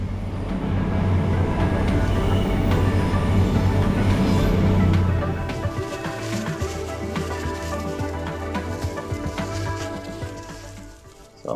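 A train passes nearby, a steady loud rumble of rolling wagons that eases after about five seconds and carries on as a lower continuous roar.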